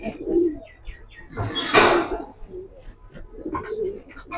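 A pigeon hen coos softly at close range: a low throaty call, a brief rustle or flutter in the middle, then another coo, with faint chirps in the background.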